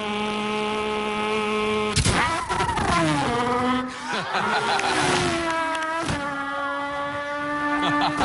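A voice imitates race car engines, with revving whines that climb and drop in pitch, sharp shifts between gears, and a continuous loud, close buzzing tone throughout.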